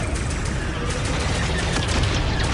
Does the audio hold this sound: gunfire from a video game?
yes